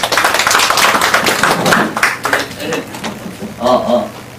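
Short burst of audience clapping at a civic discussion forum, strong at first, then thinning into scattered claps and fading, with a voice briefly near the end.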